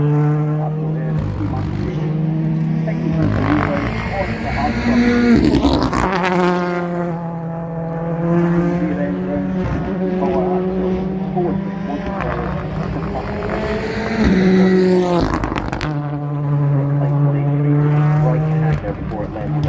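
A rally car races through a hillside stage at the McRae Rally Challenge, its engine screaming loudly through gear changes and revving in waves, with commentary talking over it.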